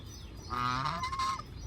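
A Pekin duck on a farm gives one loud, nasal, drawn-out quack close by, lasting about a second against a quiet background.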